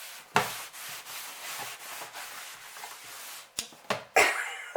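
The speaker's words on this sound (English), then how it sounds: "I'm going to clean this work surface" A work surface being wiped and scrubbed clean with a cloth, steady close rubbing strokes for several seconds, then a few sharper scuffs and knocks near the end.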